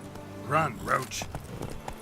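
Hooves of Roach, the horse in The Witcher 3 Blood and Wine expansion, clopping at a gallop, a few soft near beats that are moderately faint, with a brief voice in between.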